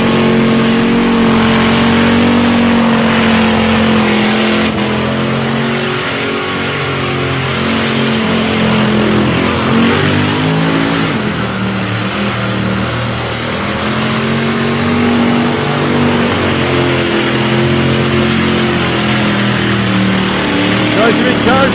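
At a country street drag meet in Casterton, a drag car's engine revs hard and climbs as the driver drops back a couple of gears, a loud sustained droning note with shifting pitch under an excited commentator's voice.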